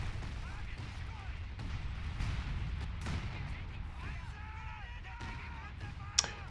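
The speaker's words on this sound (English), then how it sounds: "We got a land mattress out, firing somewhere." A Land Mattress rocket launcher fires in a World War II strategy game, muffled rolling launches and thuds sounding at a distance amid battle noise, ending with one sharp crack, while a voice talks throughout.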